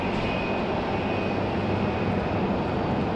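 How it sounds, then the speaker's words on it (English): A United Embraer E175 regional jet pushes back at a rainy Raleigh-Durham airport, its engines giving a steady, even broadband roar with a faint high whine held throughout. "Looks like we've got a United pushing back."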